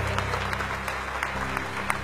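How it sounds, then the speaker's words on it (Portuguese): A church congregation at the Catedral do Avivamento in Franca applauds steadily and densely at an even level, with a low hum underneath and no talking. "Os que podem, tomem seu assento aplaudindo a Jesus, porque Ele é bom."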